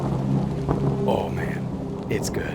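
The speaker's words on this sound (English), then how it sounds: "I don't know how this guy got this good a recording of a thunderstorm" Thunderstorm ambience from the video game Hollowbody, with steady dense rain and a low rumbling roll of thunder beneath, while someone briefly speaks over it.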